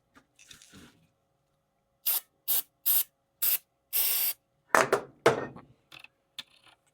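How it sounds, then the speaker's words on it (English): Contact cleaner sprayed from an aerosol can into a Hy-Gain CB radio's controls: a run of short, sharp hissing bursts, several brief and one longer, close and fairly loud with no talk. "just spray some contact cleaner in there and see what happens"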